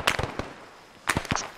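Explosions in the ARMA 3 SOG Prairie Fire military shooter, sharp bursts in two clusters separated by a brief lull, fairly close and punchy.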